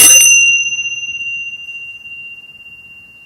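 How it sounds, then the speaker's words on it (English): A single strike of a small handheld bell rings out sharply, then its bright ringing tone slowly fades and lingers for a few seconds in a quiet room, with no talking. "listen to the sound of my bell"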